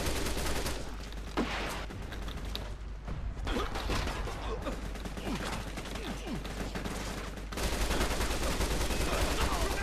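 Gunfire from the online shooter game CrimeCraft GangWars crackles in dense, rapid bursts that fill nearly all of the clip, loud and continuous with short gaps.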